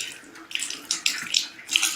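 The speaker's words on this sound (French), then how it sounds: "L'eau qui sort du robinet de la SNDE." Water pours from a household tap connected to the SNDE public supply in Congo-Brazzaville, giving a close, uneven splashing gush into a basin with no voices over it.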